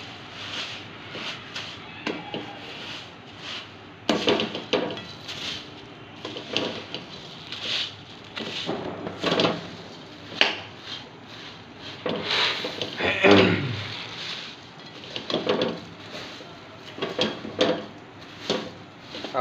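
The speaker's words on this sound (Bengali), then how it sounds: "ভালো করে নাড়তে হবে, নাড়া বন্ধ করলে কিন্তু মুড়ি শিটিয়ে যাবে।" Puffed rice being stirred in a pan for sweet moa gives a series of scraping, rustling strokes in an irregular rhythm, close and moderately loud, with brief knocks between the strokes.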